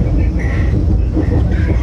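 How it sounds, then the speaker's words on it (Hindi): Vande Bharat Express train running at Kalamna railway station, a loud steady rumble with a rising and falling hum throughout the short stretch. "अभी हम है कलमना रेलवे स्टेशन पर"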